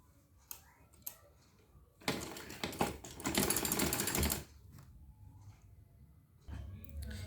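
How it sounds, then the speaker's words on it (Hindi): A sewing machine stitches fabric for a frock in a short burst of rapid mechanical clatter lasting about two seconds, with quieter clicks and someone talking around it. "थोड़ा थोड़ा कपड़ा फोल्ड करते जाइए और इसमें सिलाई करते जाइए।"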